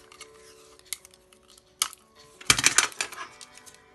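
Short crackling tears and rustling bursts of adhesive tape being pulled from a roll and pressed onto a paper origami piece, close by, growing busier toward the end.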